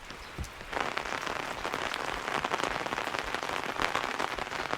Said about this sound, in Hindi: तो अब ये बरसात आई है तो हर जगह पानी हो गया